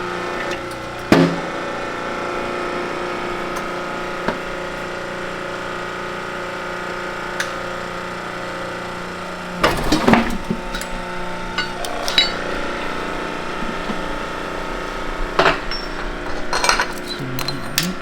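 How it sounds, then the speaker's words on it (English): A hydraulic press forces the fifth countershaft gear off the shaft of a torn-down NV5600 manual transmission, with a steady hum underneath, a sharp metallic knock early, then a burst of cracks and clanks near the end. "So right now we're pressing off the 5th countershaft gear."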